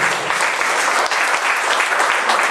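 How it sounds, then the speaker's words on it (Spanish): Loud, sustained applause from an audience at a lawyers' bar association talk, dense clapping filling the space without pause. "no me resta más que pedirles un fuerte aplauso"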